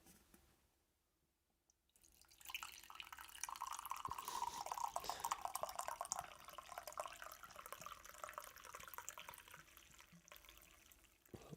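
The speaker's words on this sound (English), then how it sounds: "I'll just pour a coffee." Coffee poured into a cup, a steady liquid trickle after a brief quiet start, moderately close and continuing for several seconds.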